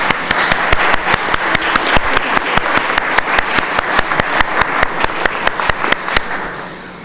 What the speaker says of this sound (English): please give these wonderful folks a round of applause